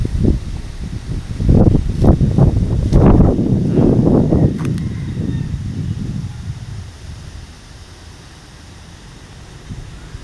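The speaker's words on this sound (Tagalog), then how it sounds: "Lakas ng hangin mga kaidol." Strong wind from the tail of Typhoon Uwan roars in the mountains and buffets the microphone continuously, louder at first and easing slightly toward the end, with a faint voice briefly underneath.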